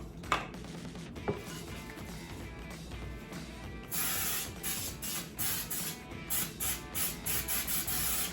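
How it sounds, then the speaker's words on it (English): Cooking spray is misted into a cake pan in a series of short, bright hissing bursts, close and distinct, following a few light clicks of the can being handled. "Got to spray it with some cooking spray and set it aside."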